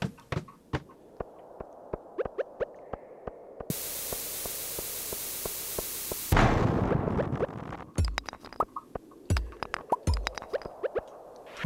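Bombs exploding in the Stardew Valley video game, a scatter of sharp bursts and pops followed by a long hissing noise blast, then more scattered bursts.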